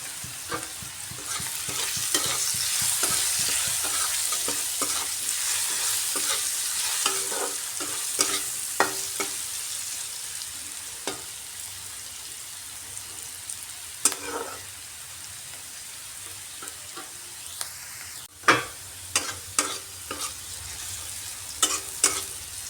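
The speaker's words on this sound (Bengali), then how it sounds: "এইভাবে ভাজতে হবে, একদম ভাজা ভাজা করে নিতে হবে।" Potato pieces sizzle in a pan with a little turmeric while a utensil repeatedly scrapes and stirs them, giving a steady close frying hiss broken by clinks and scraping taps, with no talking.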